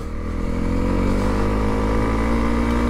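A Honda CRF300L off-road motorcycle engine revs loud and close, a steady, strained drone that holds near one pitch while the wheel spins, with no voices.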